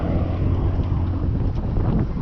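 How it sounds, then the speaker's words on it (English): Strong 17-knot wind buffeting a sailboat under head sail heading to Fort Pierce, a loud continuous low roar and microphone rumble with no speech. "We got nice wind at like 17 knots"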